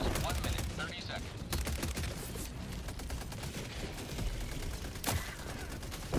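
A Gatling sentry turret in a video game pours out a rapid, relentless barrage of gunfire, dense rattling shots with a few louder bangs. The battle sits fairly low in the mix, and faint speech shows up now and then.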